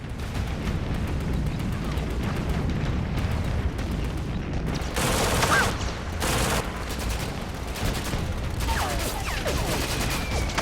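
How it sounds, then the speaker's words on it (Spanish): WWII combat with a dense fusillade of close gunfire and grenade explosions, loud rapid cracks and bursting booms coming in heavy clusters throughout. "solo uno consigue llegar antes de sufrir una lluvia de granadas y disparos cercanos"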